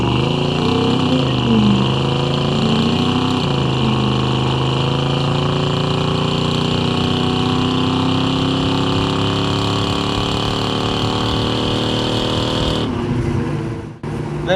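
A restored 1970 Chevrolet El Camino SS with a built 327 V8 and automatic transmission accelerates hard in first gear. It gives a loud, close, steady engine roar that climbs in pitch, then cuts off abruptly near the end.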